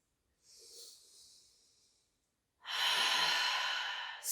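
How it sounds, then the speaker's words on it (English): Deep breath taken in a standing yoga forward fold, a soft, airy inhale followed by a louder, longer breathy exhale, close and alone with no talk. "take a deep breath."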